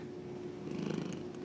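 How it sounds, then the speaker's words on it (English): A cat purrs right up against a microphone, a close, low rumbling purr that swells slightly midway, with no talking. "I can hear you purring right into that microphone"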